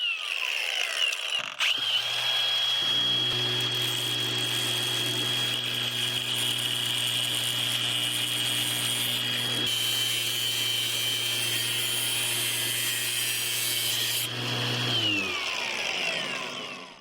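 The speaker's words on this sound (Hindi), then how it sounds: "एंगल ग्राइंडर में कोई बंधन नहीं टिकता।" An angle grinder cuts through the titanium frame of an iPhone 15 Pro, a loud sustained high whine with a steady motor hum that holds for about twelve seconds before spinning down.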